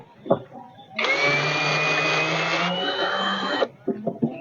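Corded electric drill driving screws while the front basket is swapped on a Honda Wave 110i motorcycle: a steady, close whirring run of about two and a half seconds that shifts in pitch partway, with faint handling noises before and after.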